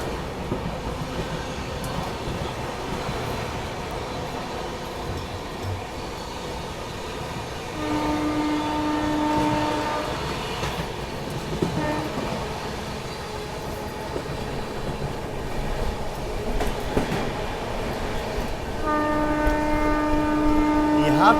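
Marudhar Express passing on the rail line, a steady rumble of wagons with clickety-clack throughout and two long horn blasts, the second near the end; some faint voices sit under the train noise.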